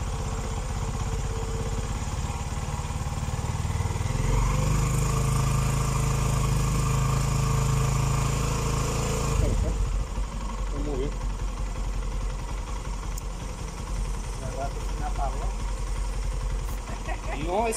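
Italika Vortx 200 motorcycle engine idling after a carburetor adjustment, a steady close putter that swells in the middle and then settles, with people talking over it.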